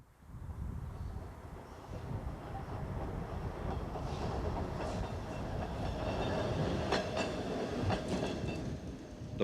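A freshly overhauled PCC electric streetcar rumbles steadily along rails, with clicking wheel joints and faint metallic squeals rising toward the end, heard up close without talk.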